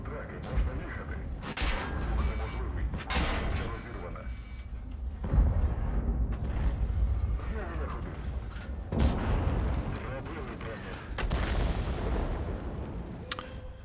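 Heavy booming gunfire and artillery blasts erupt repeatedly in a tank video game, loud and punchy, with someone talking over and between the explosions.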